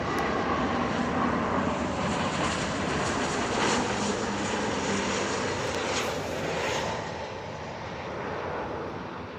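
A steady, broad engine roar of a small propeller airplane flying in to land at a nearby airstrip, loud and sustained, easing slightly toward the end with no talking.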